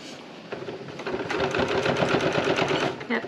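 Sewing machine running steadily while stitching the second pass of a French seam in fabric for a handmade gift, a rapid even whirr that runs close and continuous for several seconds.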